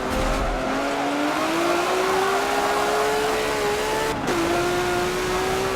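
A 2017 Ford GT in the Forza 7 racing game runs loud and close, its engine rising steadily through the revs, then a short break and a drop in pitch as it shifts before climbing again.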